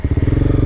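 A Honda CBR300R sport bike engine revs up close, its single-cylinder-style pulses firing in a fast, even, loud rhythm over a brief moment.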